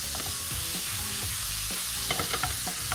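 Beef mince frying in olive oil while a spoon breaks it apart, producing a steady sizzle with busy scraping and tapping strokes, close up and without talk.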